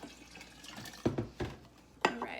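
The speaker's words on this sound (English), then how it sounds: "now we're gonna add 4 cups of water" Cold water poured into strawberry lemonade, a few soft splashes and gurgling pours in quick bursts, close by and fairly quiet against a faint room background.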